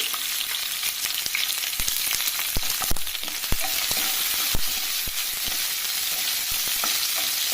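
Onion pieces fry in hot oil in a pan with a bright, continuous sizzle, punctuated by frequent sharp clicks and taps of a spatula stirring, with no speech.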